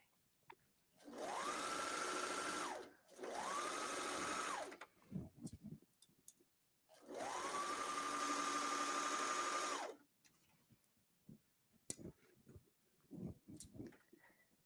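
A sewing machine stitches a T-shirt in three steady runs, each a loud, even motor whir that ramps up and stops, with soft handling clicks and rustles between bursts.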